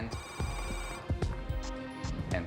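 A telephone rings in a hair salon, a continuous electronic ringing tone with rhythmic pulses over a couple of seconds, fairly close and heard alone.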